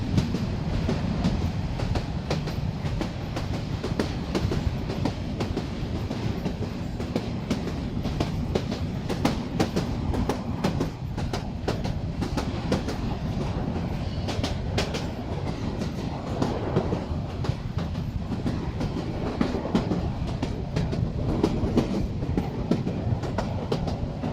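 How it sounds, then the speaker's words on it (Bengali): The Dolonchapa Express runs on rails near Parbatipur junction in Bangladesh, a steady loud rumble with continuous clickety-clack from the wheels throughout, heard from inside the train. "ট্রেন চলুক তার আপন গতিতে"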